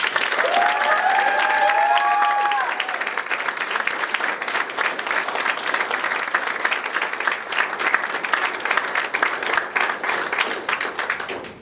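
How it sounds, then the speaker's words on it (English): Audience applause at a school Year 12 prize-giving, a sustained, dense wash of clapping that stays steady for the full length, with a few faint voices or cheers near the start. "A round of applause."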